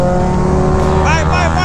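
A Suzuki GSX-S750 motorcycle's engine revs loudly up close, with popping and crackling from the exhaust as the revs change, and a voice shouts over it.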